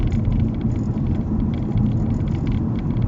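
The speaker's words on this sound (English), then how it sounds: "Listen to the engine of your car." Steady low rumble of a car engine while driving on a road in a higher gear, a close, continuous drone with faint road noise and no talking.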